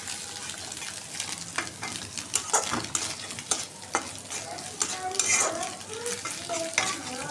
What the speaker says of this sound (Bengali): ভালোভাবে ভাজা নিতেছি।